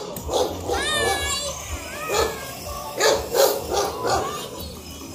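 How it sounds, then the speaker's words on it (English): A dog barks several times at middle distance during a monster truck driving lesson, while people talk and give directions over steady outdoor noise. "There's a dog."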